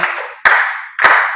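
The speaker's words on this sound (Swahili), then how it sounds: "mpigieni makofi" Three sharp bursts of audience clapping ring out one after another at a church children's program, rewarding a child's correct answer; each burst is loud and close, then fades quickly.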